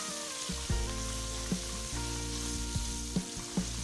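Mustard seeds splutter in hot oil with asafoetida, green chillies and curry leaves. A steady sizzle carries scattered sharp pops, with a faint low hum behind it.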